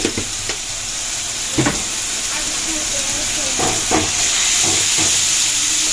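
Kakrol (teasel gourd) curry frying in a pan with a steady sizzle, near and continuous, broken by several sharp scrapes and knocks of a spatula as it is stirred, with faint background noise.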